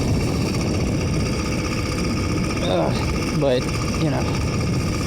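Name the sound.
motorized bicycle engine running in winter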